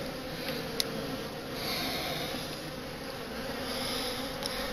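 Honey bees swarm-ready in an opened hive hum as a soft, steady buzz, with a few faint clicks and no talking.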